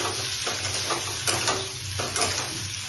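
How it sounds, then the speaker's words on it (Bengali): Paneer pieces lightly fry in hot oil with a continuous, close crackling sizzle, and faint stirring pulses break through every half second or so. No one talks. "তেলটা গরম হয়ে গেছে, এখন পনিরগুলোকে আমি ফ্রাই করে নেব।"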